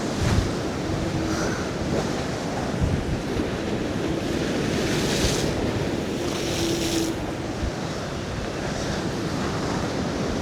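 Waves crash and wash on a seaside shore in a constant roar of surf, with wind buffeting the microphone and a few louder surges breaking through.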